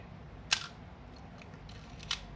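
A Nikon EM film camera set to B shutter: two sharp mechanical clicks about one and a half seconds apart, close and crisp in a quiet room.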